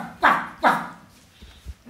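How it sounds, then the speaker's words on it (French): Dogs barking during a performance evening at a Paris gallery: two loud, close barks in quick succession, followed by fainter scattered sounds and a low thump. "Les chiens aboient, quoi."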